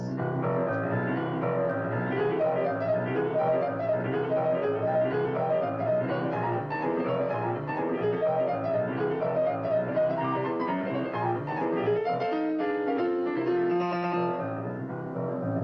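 Boogie woogie piano played with both hands, a steady rolling left-hand bass under right-hand figures, loud and continuous throughout with no talking.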